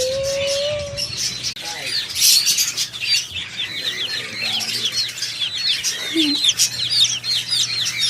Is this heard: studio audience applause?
no